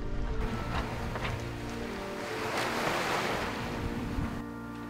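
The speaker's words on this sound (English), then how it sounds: "This swell is really quite incredible." Ocean swell washes around a sailing boat moving slowly through the Strait of Gibraltar, a soft surging wash that rises and falls, with buffeting wind noise on the microphone.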